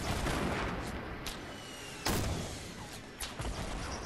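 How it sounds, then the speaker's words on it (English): Rapid sniper and rifle fire in the Fortnite video game, dense overlapping gunshots with a sharp loud crack near the middle and another burst near the end, continuous and busy throughout. "I'm getting sniped at."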